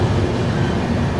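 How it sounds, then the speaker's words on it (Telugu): Gujarat Sampark train passing a station platform at Madra Junction, a brief steady low rumble of rolling wheels and carriages close by, with no voices. "ఇవాగైతే గుజరాతీ సంపర్క్ ట్రైన్ అయితే వెళ్ళిపోతుంది."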